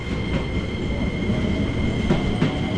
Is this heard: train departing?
yes